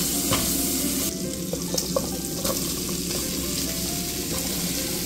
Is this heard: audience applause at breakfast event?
no